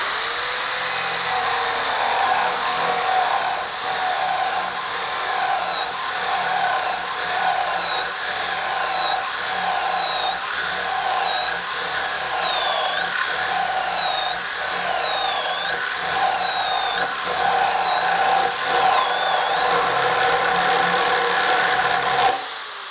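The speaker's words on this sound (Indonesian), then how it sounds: "sekarang kita cobain mata bor kipasnya ya ke kayu bengkire" A power drill with a 32 mm spade bit bores into very hard bengkirai wood, a loud sustained whine with rising and falling pitch sweeps as the bit bites and strains, running continuously without talk.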